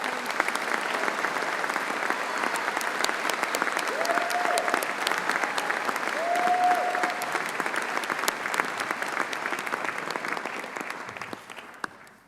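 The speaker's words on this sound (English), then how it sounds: "Please join me in giving them a warm round of applause" A graduation audience at a university ceremony gives the musicians a steady, sustained round of applause, a dense even wash of clapping from a large crowd that holds throughout before tapering slightly at the end.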